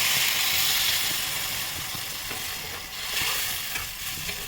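Fish simmers with spices and a little water in a pan while being stirred, a close, strong sizzle layered with scraping stirs and small clicks, loudest at the start and easing slightly, no voices.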